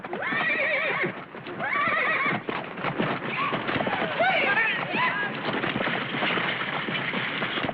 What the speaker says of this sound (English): Gene Autry, America's favorite cowboy, and his horse, Champion, the world's wonder horse.